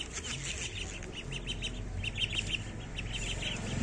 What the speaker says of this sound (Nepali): यी बबलले हाँसलाई एकचोटि उडाएर हेर्नु पऱ्यो